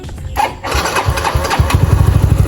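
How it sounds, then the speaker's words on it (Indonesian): A bored-up Suzuki Soul GT scooter fitted with a CBR throttle body and ECU cranks and fires up, then settles into a loud, close, steady idle with a rapid rhythmic pulse. "Mari kita hidupkan, kunci kotak on,"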